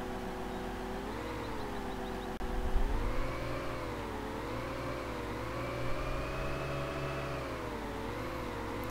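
A vehicle engine in the Farming Simulator video game hums and whines at a steady pitch. The pitch rises and falls in slow waves as it revs, with a brief thump partway through.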